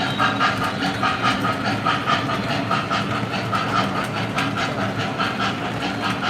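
An O gauge model train, an Empire pulled by an original Proto 1 engine, runs with a continuous hiss and rhythmic rail clatter, fairly close and even in level, with no talk.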